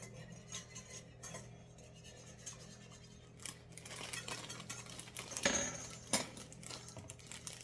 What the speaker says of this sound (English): We're going to stir in the potatoes.